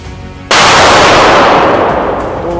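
A Stallion pistol set off by remote during a nitro proof test: a single sudden, very loud blast close by, followed by a long, dense roaring decay that fills the rest.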